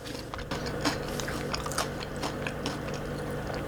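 Someone biting and chewing crunchy, slightly burnt air-fried French fries, giving a run of crisp, irregular crunches close to the microphone over a few seconds, with no speech.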